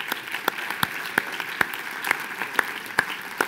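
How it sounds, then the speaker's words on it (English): An audience at a business seminar applauds, with a thin spread of clapping and several sharp, louder individual claps standing out at a fairly regular pace. "Let's give Greg a round of applause."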